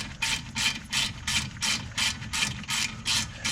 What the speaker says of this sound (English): Then you're going to use a H7 socket to take the bolt out.